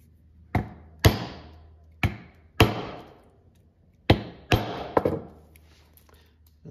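A leather rivet setter struck with a hammer on a small anvil, about seven sharp metallic blows in uneven pairs and singles, close and crisp with brief ringing decay.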